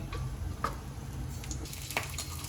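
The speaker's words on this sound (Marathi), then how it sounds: "थोड्याशा तेलामध्ये आपण आधी मिरच्या भाजून घेऊया." Green chillies roasting in a little oil in a pan, giving a soft, steady sizzle with occasional small crackles and ticks throughout, fairly quiet and close.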